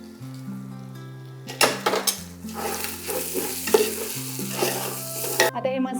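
Pav bhaji masala, red chilli powder and green chutney sautéing in a pan, with a steady low sizzle broken by repeated scraping and stirring strokes of a spoon against the metal, close and fairly loud, with no talking.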